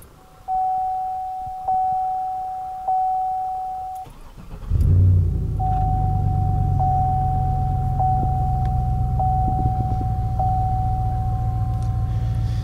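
A 2007 Chevrolet TrailBlazer SS with an LS2 engine: a few repeated chime beeps, then the starter cranks and the engine catches into a steady, loud idle while a warning chime keeps pinging over it.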